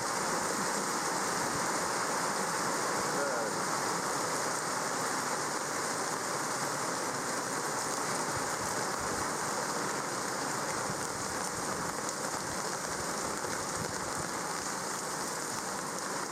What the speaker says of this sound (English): the afternoon showers have definitely come in